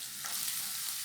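Chili powder stir-frying in hot oil for Sichuan mapo tofu, a dense, steady sizzle close up with no speech.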